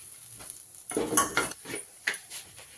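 Crushed ginger and a green chili tipped into a hot pan for kochuri filling, giving a brief sizzle with a few close metallic clinks and scrapes of a spoon against the pan.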